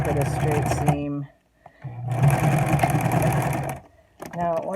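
Two bursts of a sewing machine running a straight seam on fabric for a cloth mask, each a fast, steady mechanical chatter, separated by a brief quiet pause, with a short start of the motor at the very end.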